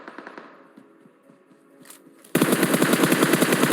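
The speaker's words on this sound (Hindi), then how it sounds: "भाई सामने फायरिंग चल रही है" Rapid automatic gunfire in a shooter video game erupts loudly partway through, a dense rattling burst following a quieter stretch of distant shots and ambience.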